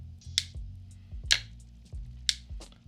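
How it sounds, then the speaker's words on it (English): The bail of a Quantum Strive spinning fishing reel snaps open and closed, giving three crisp, hard clicks about a second apart, each close and sharp against a low handling rumble. "I like that hard click going back and coming forward."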